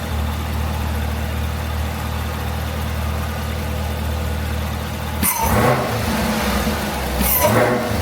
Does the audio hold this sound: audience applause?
no